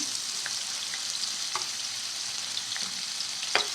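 Onions fry in hot oil with a steady sizzle, broken by occasional sharp clicks and scrapes from stirring, close by and with no speech.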